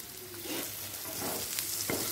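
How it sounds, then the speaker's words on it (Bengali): Paneer cubes frying in ghee in a pan, a steady close sizzle with a few stirring scrapes and brief clinks, no talking. "পনিরটা হালকা লাল করে ভাজা হয়ে গেছে"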